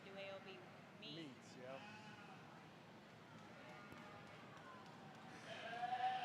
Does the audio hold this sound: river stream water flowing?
no